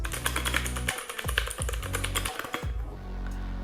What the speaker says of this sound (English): it's a mechanical keyboard, which means it has great tactile feedback